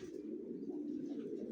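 Adult racing pigeons kept in a loft coo in a low, steady, rolling murmur, close and moderately soft, with overlapping throaty calls running continuously.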